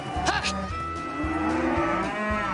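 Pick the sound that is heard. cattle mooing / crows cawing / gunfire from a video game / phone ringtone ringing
cattle mooing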